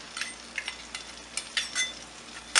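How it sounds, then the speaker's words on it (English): All-purpose flour is stirred into melted butter in a pan, soft sizzling under a series of light scraping strokes and an occasional clink of utensil on metal, with no voices. "we will be putting in the all-purpose flour"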